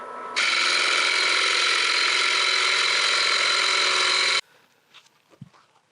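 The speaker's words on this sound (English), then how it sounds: "Sticking with a 7/8 inch gouge and 1300 RPM." Wood lathe spinning at 1300 RPM while a 7/8 inch gouge turns a crotch wood piece, a loud, steady whirring hum for about four seconds that stops abruptly, followed by faint handling noises.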